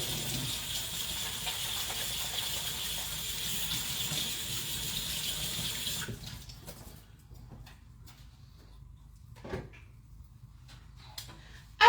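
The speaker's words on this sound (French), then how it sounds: "Je me lave les mains et j'arrive." Tap water runs steadily as hands are washed at a kitchen sink, a broad continuous splash for about six seconds before the flow stops, followed by quieter room sounds and a few faint knocks.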